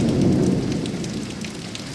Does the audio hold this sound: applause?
no